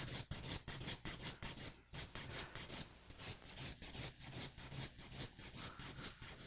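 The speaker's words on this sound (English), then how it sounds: "You can hear that when I'm filing that long stroke." A nail file rasps across a square sculptured acrylic nail in long, even strokes, about two dozen close, rhythmic scrapes with brief gaps between them, heard alone with no talking.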